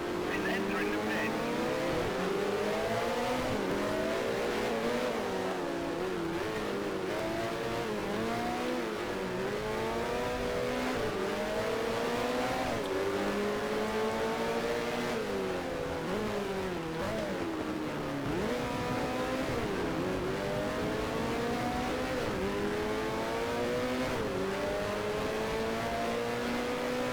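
A Formula 1 race car engine in a racing video game screams continuously, its revs climbing and dropping through repeated gear changes, with a voice speaking now and then over it.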